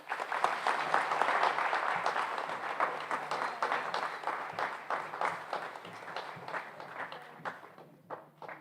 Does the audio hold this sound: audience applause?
yes